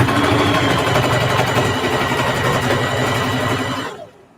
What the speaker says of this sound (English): when I get to the edge, I'm just gonna sew straight off